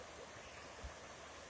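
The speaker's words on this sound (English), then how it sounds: "You hear the water in the background" Water flows in the background near a highway through timber and brush, a faint steady rushing wash with one soft low thump partway through.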